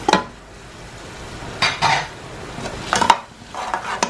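A spoon stirs tomatoes and spices frying in a pot for pumpkin and chana dal, giving a few loud scraping bursts against the metal with gentle sizzling in between, close by and without voices.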